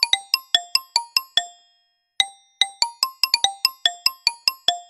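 Apple iPhone Xylophone ringtone: bright, crisp mallet notes strike in quick rising-and-falling runs, each decaying fast; a short burst, a pause of silence, then the pattern repeats, clear and close with no talk.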